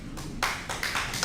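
Audience at a school district forum breaking into applause, a dense burst of many hands clapping that swells in loud waves, close and continuous with no talk over it.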